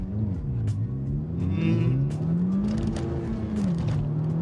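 A Honda Civic FK2 Type R accelerates hard from inside the cabin, its engine droning loud and close as the pitch climbs through the gears with brief dips at each shift.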